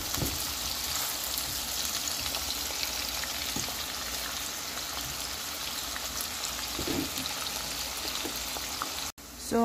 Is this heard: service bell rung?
no